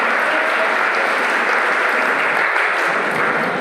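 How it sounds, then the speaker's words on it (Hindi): A crowd claps steadily and loudly for a few seconds at a Hindi-speaking youth organization's event honoring its general secretary, a dense wash of applause with no voices standing out. "आर्य जी के लिए भी तालियां बजाएं।"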